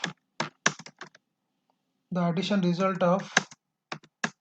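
Computer keyboard keys clatter in quick uneven bursts while someone types code, with a short stretch of talking in the middle before the clicking resumes.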